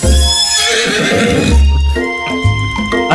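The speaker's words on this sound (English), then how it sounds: "I have a feeling the horse would have killed us if we ran to it." A horse neighs loudly in a video game, two drawn-out whinnies with a shorter call near the end, set against a busy game soundtrack with no talking.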